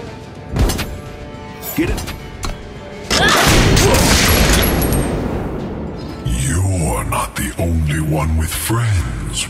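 Gunslingers open fire in a surprise attack in a video game, with booming, crashing shots and impacts that swell into a loud sustained volley, mixed with game effects and voices.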